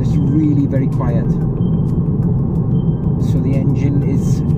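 A 2018 Volkswagen Golf GTI Mk7.5 engine hums smoothly and steadily at a low level while driving, a constant rumble without blips, with a voice talking over it.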